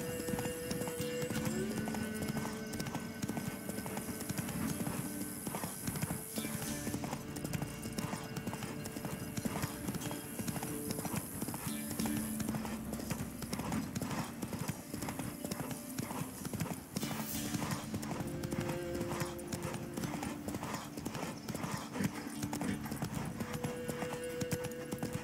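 Hooves of Roach, a horse in The Witcher 3 video game, clip-clop in a steady continuous rhythm throughout, close and prominent over a constant ambient game bed, with occasional tonal music-like lines.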